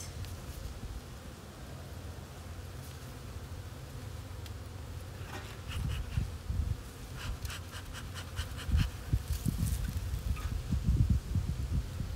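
Honeybees buzz around an opened hive during the first inspection of the year, a steady low drone close by that grows louder and busier partway through, with faint clicks of handling, no speech.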